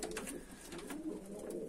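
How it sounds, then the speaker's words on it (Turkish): Pigeons cooing in a coop, soft rolling coos repeating over a quiet background, faint and close. "Yani bu arada bu tarafa da bir kuş geçti."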